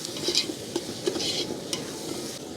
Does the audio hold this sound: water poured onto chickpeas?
no